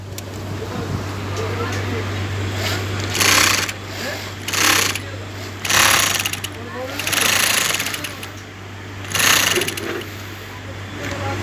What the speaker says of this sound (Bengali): এই যে দেখেন আমি এখন সেলাই করব।